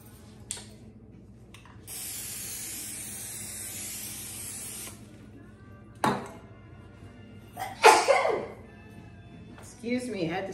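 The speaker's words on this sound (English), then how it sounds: "Let's spray the pan." Cooking spray hisses from a can onto a baking pan in a home kitchen for about three seconds, near and moderately loud, followed by a few clatters and brief talk.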